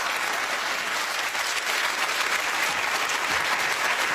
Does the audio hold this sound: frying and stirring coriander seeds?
no